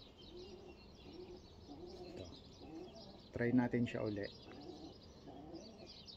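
Pigeons in a New Zealand loft coo softly in a repeating, rhythmic pattern close by, and someone briefly speaks over them midway.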